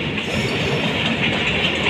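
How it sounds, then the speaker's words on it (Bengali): Bangladesh Railway locomotive 6510 and its train roll past on the rails, a loud, continuous close-up rumble with rhythmic clickety-clack from the wheels and a faint hint of wheel squeal. "৬৫/১০ লোকোমোটিভ ইঞ্জিন"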